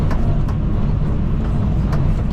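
A truck pulls away from an excavation site where a lagoon is being cleaned, its heavy engine producing a loud, steady low rumble throughout.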